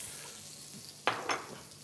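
Cucumbers briefly flashed in a hot oiled pan with a lemongrass mix, a soft steady sizzle broken by two sharp stirring scrapes near the end.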